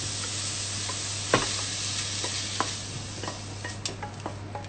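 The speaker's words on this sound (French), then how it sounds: "je crée des sucs au fond de la casserole" Shrimp searing in a saucepan for mafaldine pasta, a steady hiss of frying under a faint hum, broken by a few light knocks and scrapes of a utensil against the pan as browned bits form on the bottom.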